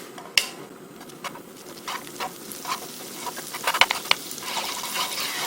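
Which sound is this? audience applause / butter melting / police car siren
butter melting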